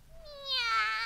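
A single cat meow rises and then slides down in a drawn-out, fairly clear cry about a second long, heard alone among a farmyard roll call of animals.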